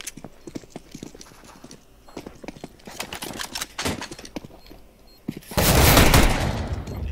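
Repeated gunshots ring out in a CS:GO match, a run of sharp cracks and short bursts spread across the stretch, followed by a loud, dense burst near the end.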